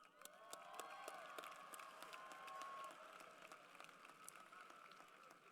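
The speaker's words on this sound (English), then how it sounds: "Let's give ourselves a little round of applause." Graduating high school class applauding at their 2019 commencement ceremony, a dense, steady wash of many hands clapping at once, sustained for several seconds and easing slightly toward the end, with no speech over it.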